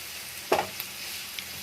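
Chopped carrots and capsicum sauté in a pan with a single sharp stir and sizzle burst, followed by a soft background frying hiss and a couple of faint ticks.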